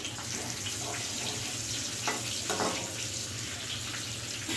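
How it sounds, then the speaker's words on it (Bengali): Cumin, cloves and cardamom sizzle in hot oil for a tempering, a constant loud frying hiss close by with faint crackles, heard alone without talk. "জিরে, লবঙ্গ আর এলাচ ফোড়নে দেবো।"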